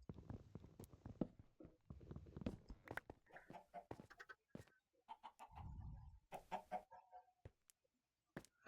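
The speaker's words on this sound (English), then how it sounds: "get out of there, chickens" Chickens cluck in a Minecraft Bedrock world, a run of short, close clucks and squawks in scattered bursts, mixed with clicks and blocky game effects, with pauses of near silence between.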